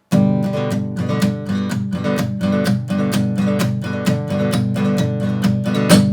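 Steady acoustic guitar strumming in a down, down, up pattern, rapid down-and-up strokes in an even, driving rhythm, bright and close with no voices.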